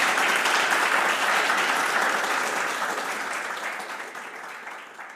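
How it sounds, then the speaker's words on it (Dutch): Applause from a small live audience in the little hall of a science-and-arts festival, welcoming two guests at a live podcast recording; dense, steady clapping that slowly fades over about five seconds. "ik wil jullie hartelijkste applaus vragen voor deze twee gasten."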